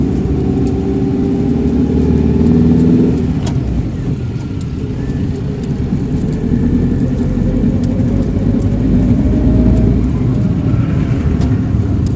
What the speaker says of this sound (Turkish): Bas, bas gaza şimdi.